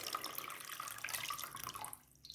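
Water pours steadily from a tap into a plastic microwave-safe container, a continuous splashing stream that stops abruptly near the end, leaving quiet.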